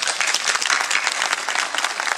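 An audience applauds after a concert at a children's song contest semifinal in Warsaw, a dense, even burst of many hands clapping close and continuously throughout.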